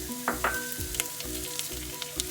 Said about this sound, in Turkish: Soğanlarımızı hafif pembeleşinceye kadar kavuruyoruz.